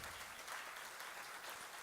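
Audience applause at the Community Foundation for Greater New Haven's 2019 annual meeting, a faint, steady patter of many hands clapping throughout, heard alone without voices.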